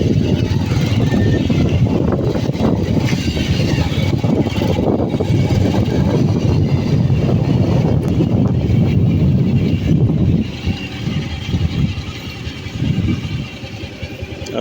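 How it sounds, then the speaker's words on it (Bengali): A motorbike rides a rough, broken dirt village path toward Sada Pathor in Volagonj, Sylhet, its engine droning loudly and continuously with wind rumble, easing slightly toward the end. "আমরা আরেক পথ দিয়ে বাইক নিয়ে সাদা পাথরে যাচ্ছি।"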